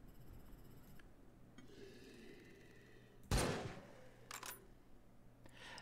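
A single sharp gunshot cracks out loudly in the video game Dysmantle, followed by a couple of fainter shots against a quiet, humming background.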